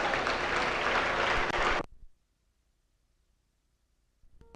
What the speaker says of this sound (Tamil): கைத்தட்டு மட்டும் கொடுங்க அவங்களுக்கு.